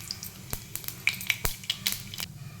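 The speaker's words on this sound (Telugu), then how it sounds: "ఇప్పుడైతే ఆయిల్ వేడైంది, కొంచెం జీలకర్ర వేసుకుంటాం." Cumin and mustard seeds sizzle in a little hot oil, a steady soft frying hiss punctuated by sharp crackles and pops scattered throughout, close and fairly quiet.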